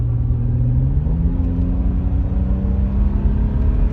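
A BMW with grinding rear brakes and a pulley fault drives along, its engine rumbling steadily with a rising whirring tone as it accelerates and holds speed, loud and close with road noise underneath.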